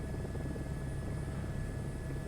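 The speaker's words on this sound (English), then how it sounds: "I want to be inside the helicopter for this" Helicopter flight in Microsoft Flight Simulator 2024 during a search-and-rescue career mission, heard from inside the cabin as a loud, constant rotor and engine drone with a steady thrumming beat.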